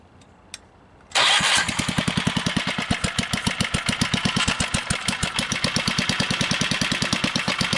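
A berry picking machine's small engine cranks briefly, then catches and runs with a loud, steady, rapid putter close by, holding a fast even idle rhythm with no talking.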